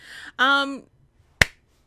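A single sharp hand clap rings out once, close and crisp, just after a brief spoken voice.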